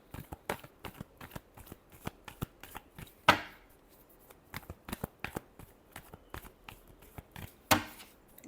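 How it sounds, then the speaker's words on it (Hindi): A deck of tarot cards is shuffled close up, giving soft riffling flicks in a steady irregular patter with two sharper riffle bursts, quiet and with no talk. "Last shuffle."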